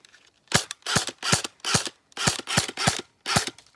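Cyma M4 polymer airsoft gun firing on semi-auto: eight sharp, close snapping shots in an uneven rhythm, each a crisp crack with a short tail, heard alone in a quiet room.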